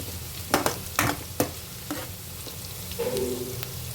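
Onions fry in a small amount of oil in a pan. A few sharp clanks and scrapes from stirring sit over a low, soft frying hiss, followed by a brief faint tonal rattle.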